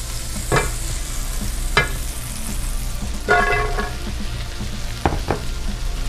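Breadcrumbs frying in olive oil and melted butter in a pan give a steady crackling sizzle, broken by a few stirring scrapes and soft clatters.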